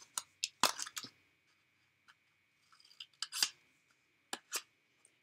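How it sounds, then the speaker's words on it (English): Scissors trim the paper tabs of a mini witch's hat, a series of close, crisp, sharp snips in irregular clusters separated by short quiet gaps. "go ahead and trim your tabs, and it'll close a lot easier."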